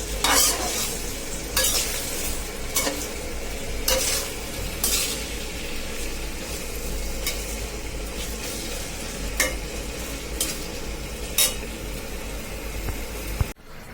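Eggplant and mixed vegetables stir-frying with spices in a pan alongside onion and garlic, a constant sizzle broken by repeated scraping strokes of a spatula at an uneven rhythm.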